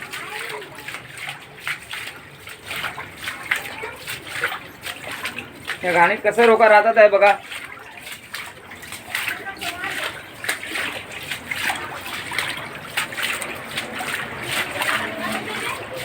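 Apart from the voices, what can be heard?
walking through flooded water in a lane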